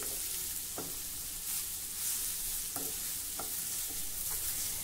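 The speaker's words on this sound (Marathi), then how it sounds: "मंद गॅसवर आता आपल्याला हा व्यवस्थित परतवून" A grated fasting dish is stirred and sautéed on a low flame, sizzling steadily in a pan while a spoon scrapes and taps at intervals, close and fairly quiet, with no talk.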